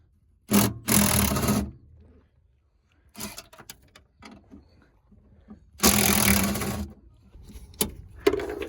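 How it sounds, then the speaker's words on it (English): A 12 mm driver removes bolts from a Kia Optima / Hyundai Sonata hybrid battery pack in two loud whirring bursts, separated by quieter handling clicks and clatter, close up and without talk. "Now we're gonna get a 12mm screwdriver and remove these bolts."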